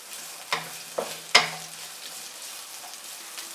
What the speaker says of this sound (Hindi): अब इसमें डालेंगे प्याज। प्याज को हल्का सा फ्राई करेंगे।